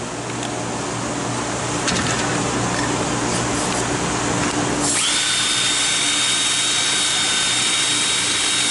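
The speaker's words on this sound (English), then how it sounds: "Put them on a drill." A drill spins Superior brush buddies to clean a 4T65E transmission channel plate: a steady close whirring drone that shifts to a higher, harsher whine partway through, loud and with no talk.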